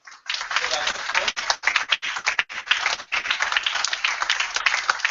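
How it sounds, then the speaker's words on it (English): A round of applause from an audience at a user group talk, brisk close clapping with short gaps early on, then continuing evenly to the end. "Round of applause for that."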